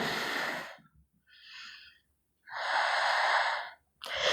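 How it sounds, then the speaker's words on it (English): Deep, slow breaths during an Ashtanga yoga shoulder stand: a long exhale, a softer inhale, then another strong, airy breath close to the mic, with no talking. "And we breathe, yeah."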